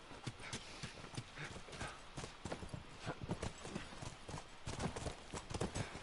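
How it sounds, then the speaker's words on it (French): Horses in the video game The Last of Us Remastered approach with steady clip-clopping hooves, quiet and somewhat distant, several animals trotting in a continuous rhythm. "c'est les chevaux qui viennent à nous même"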